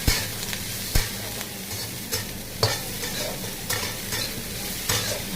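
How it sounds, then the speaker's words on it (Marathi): Onion, carrot and capsicum sauté in hot oil with a steady close sizzle, broken by several sharp scrapes of a spatula stirring the pan at irregular intervals; no voices. "आपल्याला तेलामध्ये जास्त शिजवायचं नाही आहे, सॉटे करून घ्यायचं आहे।"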